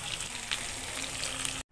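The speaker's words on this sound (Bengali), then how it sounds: "তো সবগুলো মাছ ভাজার জন্য দিয়ে দিলাম।" Prawns frying in hot oil in a pan give a steady, dense sizzle with light crackles throughout, close and fairly loud, cutting off abruptly at the end.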